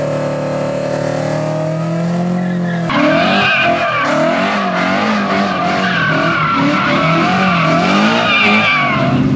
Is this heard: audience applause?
no